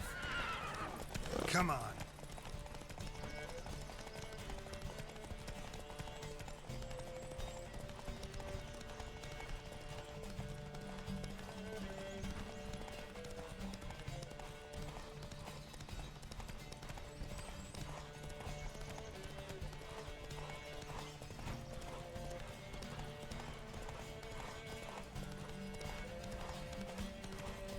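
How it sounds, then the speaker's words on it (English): Horse galloping in a race in The Witcher 3, rapid clip-clop hoofbeats running steadily under game music with a neigh near the start, and a voice speaking briefly. "Don't spare the horse!"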